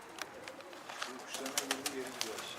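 Pigeons coo softly around a rooftop coop as a stray Karabaş pigeon arrives, the low repeated coos steady beneath brief, sharp rustles and flutters through the short stretch.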